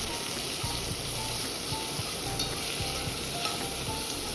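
Coriander and mint leaves fry in a pan, making a dense, even hiss with faint repeated scrapes of a spoon beneath it.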